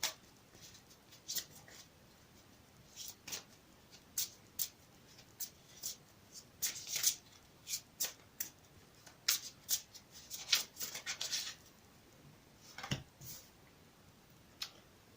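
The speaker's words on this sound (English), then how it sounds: "I'll shuffle it again for you on camera" A deck of tarot cards shuffled over and over, with soft snapping bursts of card riffles coming in irregular clusters against a quiet background. No voices.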